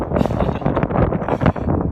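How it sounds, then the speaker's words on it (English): Steady, blustery wind buffets the microphone, producing a continuous low rumbling roar that never lets up throughout. "Excuse the wind, it's a bit windy out here."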